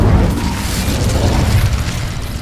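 Incendio and Reparo spell effects from the Hogwarts Legacy video game, a loud, sustained rumbling whoosh of fiery energy with low booming weight, steady throughout without pauses.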